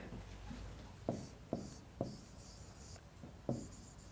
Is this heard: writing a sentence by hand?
yes